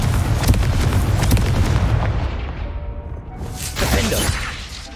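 A Confringo spell explodes in Hogwarts Legacy with a loud, close, booming blast and crackling debris that swells, dips, then surges again over a few seconds.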